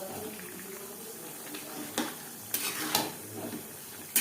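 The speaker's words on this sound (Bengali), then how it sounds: "লাউর সাথে মাছ বেশ ভালো করে মিক্সড করে দেব।" Shol fish being stirred together with bottle gourd in a cooking pan, a soft continuous sizzle with a few sharp scraping clatters of the spoon against the pan, close and moderately quiet, no talking.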